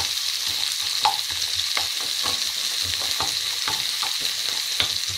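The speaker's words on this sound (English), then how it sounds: "And let those onions cook through before we add some spice to this." Chopped onions fry in a pan over low to medium heat for chilli paneer, a steady close sizzle with scattered crackles and occasional stirring scrapes, no voices.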